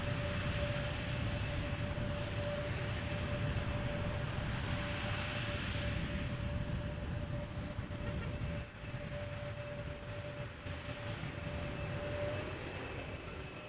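Airliner landing in gusty wind at Amsterdam Schiphol Airport, a steady loud roar of engines and rushing air with a thin sustained whine, heard from outside throughout with no talking.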